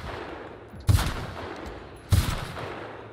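Two sharp gunshots about a second apart in The Outer Worlds, each a loud broadband crack with a short decaying tail over steady game ambience, with no talking.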